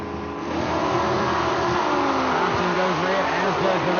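Drag race cars, one a Mustang, rev hard at the line in a heads-up bracket race, their engines wavering up and down in pitch before a sustained roaring launch, loud and continuous.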